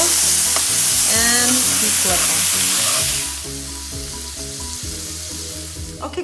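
Mahi-mahi fillets for tacos sizzle loudly in a hot frying pan, a steady broadband crackle that fades somewhat partway through as they are flipped, with a brief voice under it.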